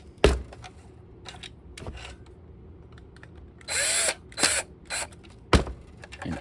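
Power drill driving a 1.5 inch screw into an underbarrel shotgun grip, a few short whirring bursts separated by clicks and handling knocks, close by, with no talking.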